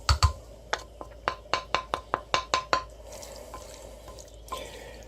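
Blackberry crisp ingredients being stirred together with sugar in a bowl, a quick series of about a dozen sharp scraping and clinking strokes, then quieter rustling.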